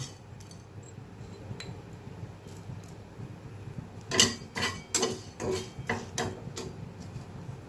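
A cooking pan is set on a stove to dry-roast puffed rice and dried red chillies for jam chutney: a few faint clinks early on, then a cluster of sharper metallic knocks and clatters near the end over quiet background hiss.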